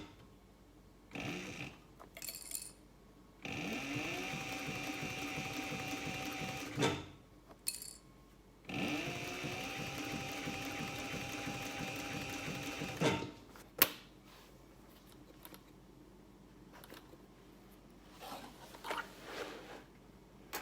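Domestic sewing machine stitching a tote bag in two long bursts of steady rapid needle chatter, with short pauses and handling rustles between runs; no talking.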